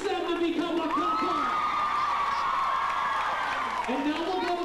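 Fans at a 1998 question-and-answer session with Rebecca Herbst erupt in loud, sustained cheering, shrill squeals and whoops riding on top of continuous clapping throughout.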